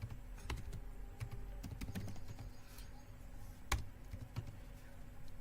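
Fingers tap steadily on a computer keyboard while entering text in a Kali Linux terminal, giving quiet, close, irregular clicking keystrokes with occasional sharper taps. No one speaks.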